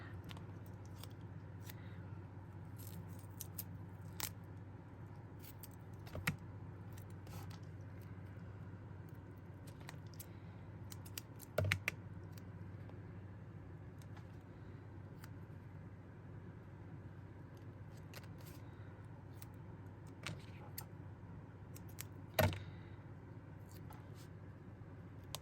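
Purple scissors cut small pieces of paper for an ephemera bag, giving a few sparse, faint snips over a quiet, low room hum.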